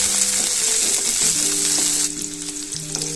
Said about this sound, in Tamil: இதை லைட்டா வதக்கிக்குவோம்